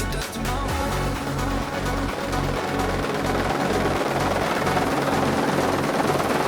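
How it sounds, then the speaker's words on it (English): A helicopter's rotor thumps steadily and loudly with a rhythmic low pulse under a broad engine roar, continuing throughout with no speech. "Helicopter Herman is en route with their staff care package."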